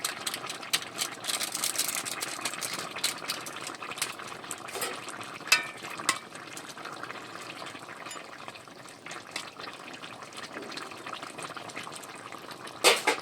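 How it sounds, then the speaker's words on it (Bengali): Fish curry of mixed Sundarbans river fish bubbles steadily in a pot with cumin paste added, a soft continuous simmer with occasional clicks and stirring, no talk. "জিরে বাটাটা দিয়ে আমি আরও একটু সামান্য ফুটিয়ে নেব।"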